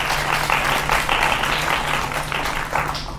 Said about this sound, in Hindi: भगवान की जोरदार तालियां इस बात पर जी